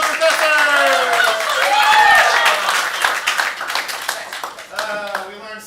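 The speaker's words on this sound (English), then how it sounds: "Give a round of applause to our professors!" Audience claps and cheers at an improv comedy show, loud at first and then thinning out, with voices calling and talking over the applause.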